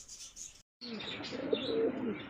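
Pigeons at a dealer's coop coo softly with low, throaty calls after a brief gap, faint and nearby, without speech.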